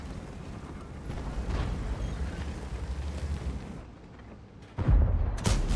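Tank cannon shots in World of Tanks, a Super Conqueror firing from cover through bushes; deep booming blasts over a rumbling battlefield bed, with a sharp heavy shot near the end.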